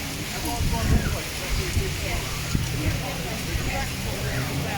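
Gusty wind buffeting the microphone outdoors at Disney World's Animal Kingdom, rumbling and uneven with a scattered patter that could be light rain, and voices faintly underneath.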